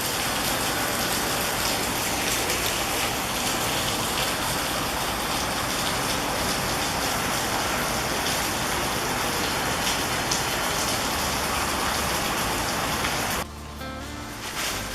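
Heavy rainy-season rain in Peru near Machu Picchu pours down steadily as a dense, loud hiss, cutting off abruptly near the end.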